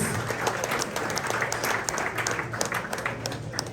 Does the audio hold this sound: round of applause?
yes